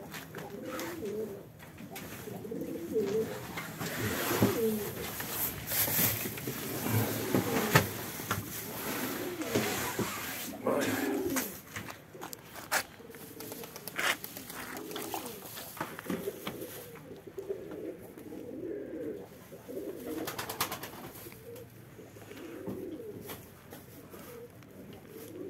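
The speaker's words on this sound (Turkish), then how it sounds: "Kuşları yemleyeceğiz diye." Pigeons coo repeatedly at close range while being fed, soft throaty calls that overlap with wing flutters, pattering and scattered bumps throughout.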